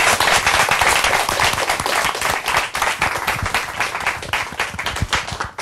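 A lecture audience gives loud, dense applause for a mother and her son, with many hands clapping close together in a steady, sustained round and no talking.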